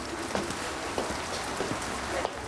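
Heavy rain pours steadily outdoors, making a dense, constant hiss with scattered louder drops and patters spread across the whole stretch.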